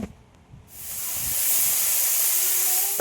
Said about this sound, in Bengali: এবারে ছোটো মাছটা দিয়ে দিলাম কড়াইতে ছোটো মাছটা ভেজে নিব